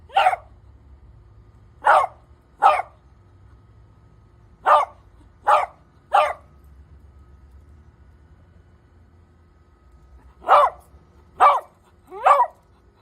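A dog barks in short bursts, about nine loud, close barks in clusters of two or three separated by quiet pauses, with a faint low hum underneath.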